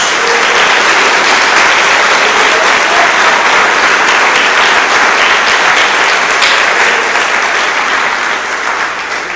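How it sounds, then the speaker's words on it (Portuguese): A church congregation applauding, a loud, sustained roar of many hands clapping together at a constant level from start to finish. "Dê uma salva de palmas a Jesus."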